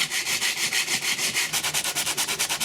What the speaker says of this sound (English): I'll tidy it up with some sandpaper to smooth out some of these rough spots